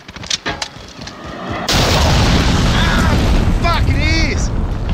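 A cruise missile explodes in Call of Duty: Modern Warfare multiplayer, a sudden loud, sustained roaring blast with rumbling debris that stays intense to the end, with whistling tones over it.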